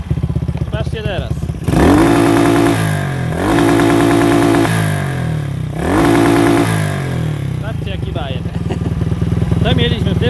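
A motorcycle engine fitted with an adjustable ignition cut-off module revs hard three times, each loud rise stuttering against the limiter before dropping back to a rough, lumpy idle between bursts.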